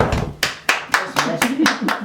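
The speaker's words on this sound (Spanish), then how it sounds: "Un aplauso muy grande." Applause at a village Easter gathering in La Pontecastru, Tinéu, where traditional Easter bread buns are being baked: loud, close handclaps in uneven bursts, with voices talking throughout.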